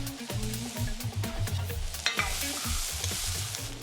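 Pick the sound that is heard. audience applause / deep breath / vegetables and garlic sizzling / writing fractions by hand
vegetables and garlic sizzling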